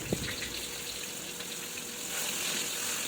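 Chicken fries in oil with a steady, dense crackling sizzle, close and even, growing slightly louder toward the end.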